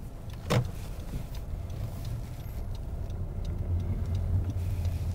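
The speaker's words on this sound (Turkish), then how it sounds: "Sola çıkacağım için sola sinyalimi veriyorum ve yavaş yavaş çıkıyorum." A car eases slowly away from the curb after signalling left, with a low steady engine hum, a brief click near the start and faint mechanical sounds, no talk.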